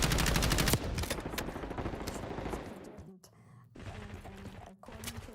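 Dense, loud automatic gunfire from Black Ops 6 rattles steadily, cutting off abruptly partway through, with a voice talking over the mix and other game sounds continuing afterward.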